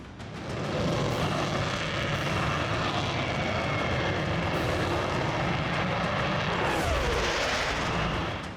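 A Tejas LCA, a 4.5-generation multirole fighter jet, flies past with a loud, sustained roar that swells and shifts in pitch as it passes, with no voices.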